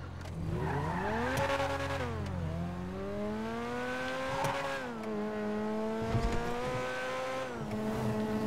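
A stolen car in GTA 5 revs and shifts through repeated rising and falling engine tones, with tire squeal and skidding from a loud video game engine sound.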